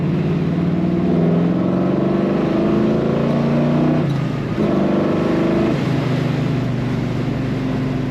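A 1969 Chevrolet Camaro RS convertible with a cowl induction hood, top down, its engine droning steadily under load in third gear, loud and close, pitch holding with a brief dip midway before resuming.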